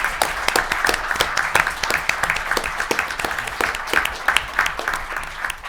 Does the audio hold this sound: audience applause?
yes